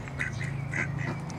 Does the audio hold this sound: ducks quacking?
yes